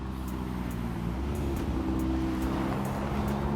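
A McLaren supercar comes down a street with a steady low engine drone that grows slightly louder as it approaches, heard alone without talk.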